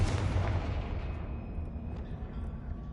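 A Confringo fire spell explosion in the video game Hogwarts Legacy, a heavy booming blast with a long rumbling decay that fades over a few seconds.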